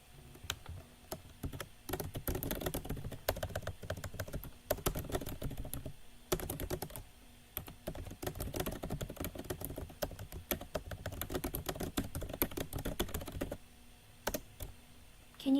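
Fingers type on a computer keyboard in quick irregular bursts of clicking keystrokes, close and fairly quiet, with short pauses between runs and no talk.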